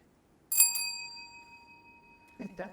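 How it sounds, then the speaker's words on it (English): Quiz bells rung as a test, two quick bright rings with a long ringing decay, followed by people talking. "Can you test your bells if it's working?"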